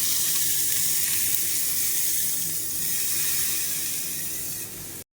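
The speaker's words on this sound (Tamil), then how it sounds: "இப்போ தாளித்ததை அந்த சட்னியில் அப்படியே சூடாக கொட்டிடுவோம்" Hot mustard seeds, urad dal, asafoetida and curry leaves in oil tipped into green chilli chutney, giving a loud, steady hiss and crackle that runs unbroken for several seconds before stopping abruptly.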